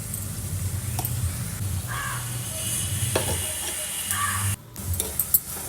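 Ingredients for a Kerala-style fish curry, with turmeric, coriander and chilli powders, sizzle and are stirred in a pan, a steady close frying hiss with occasional scrapes and clinks.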